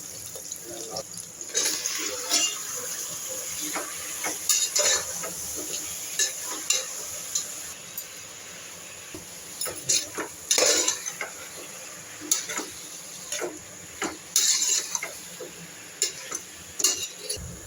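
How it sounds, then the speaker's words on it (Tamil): Onions and tomatoes with salt being sautéed in a pan for tomato rice: a soft steady sizzle with intermittent scraping and clinking of a spoon stirring against the pan. "வெங்காயம் நல்லா வதங்கினதும் தக்காளியை போட்டு உப்பு போடலாம்"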